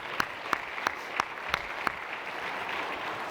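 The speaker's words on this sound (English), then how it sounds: "Can I get one more round of applause for the two merchants that we just had on stage?" Audience applause at a corporate security summit's closing remarks, with a dense wash of clapping and a few sharper, regularly spaced claps standing out above it, steady and moderately loud throughout.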